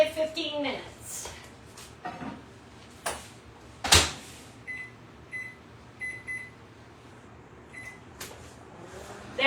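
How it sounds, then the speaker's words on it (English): A microwave door thumps shut, then a short series of electronic keypad beeps sounds, with light clicks and handling noise around it. "Covered, microwave 15 minutes."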